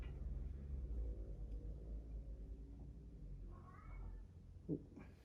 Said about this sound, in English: my cat's meowing about something